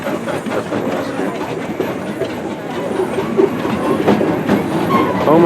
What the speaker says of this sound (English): Oh my God, the little train is running.